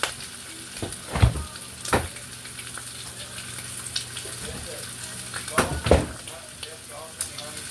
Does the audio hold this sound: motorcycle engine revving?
no